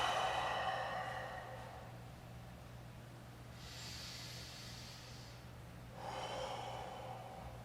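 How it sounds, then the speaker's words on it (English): A person takes slow, quiet breaths during a seated neck stretch at a desk. Soft airy inhales and exhales come in a few separate pulls over a low steady hum, faint and close. "You're going to breathe in,"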